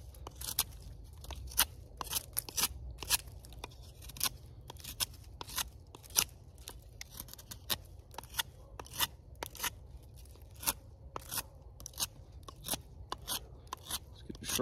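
A sharp knife whittles a small stick into a tent stake, giving a steady run of crisp, close shaving and scraping strokes in irregular rhythm.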